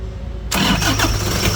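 A Toyota Hiace diesel engine cranks and catches after about half a second of near silence, then runs loud and close with a rough, steady clatter.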